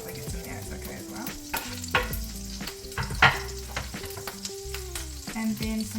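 Garlic and parsley fry in a few tablespoons of oil in a pan, a soft continuous sizzle with occasional sharper crackles and taps of a utensil stirring, and no talking.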